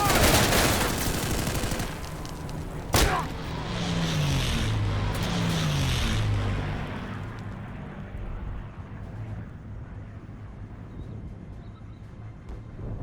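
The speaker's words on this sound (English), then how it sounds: "Gun run's coming." A gun run air strike from a plane in the video game Day of Infamy: a sharp burst of fire, then a long, loud rumbling roar that slowly fades into a lingering background din.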